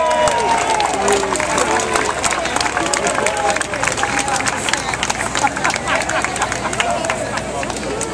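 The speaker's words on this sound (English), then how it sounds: "Give them a round of applause." A crowd applauds city officials at an outdoor centennial celebration in Burbank, California, with loud, steady clapping mixed with cheering and crowd babble throughout.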